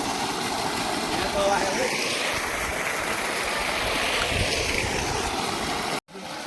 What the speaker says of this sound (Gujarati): અમારા ખેતરમાં પાણી ચાલુ કર્યું છે